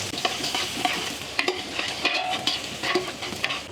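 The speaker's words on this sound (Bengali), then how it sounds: "এই পেঁয়াজটা একেবারে ব্রাউন কালার হওয়া পর্যন্ত অর্থাৎ বেরেস্ত হওয়া পর্যন্ত অপেক্ষা করতে হবে আর এই সময়টা নাড়ানোর উপর রাখতে হবে" Onions sizzle steadily in hot oil in a pan while being stirred until browned for restaurant-style saffron pulao, with irregular scraping clicks of the spoon over the continuous hiss; no one speaks.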